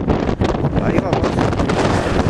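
Strong wind on a clifftop along the coast at Lipimávida, Chile, a loud continuous buffeting roar battering the microphone, with gusts rising and falling.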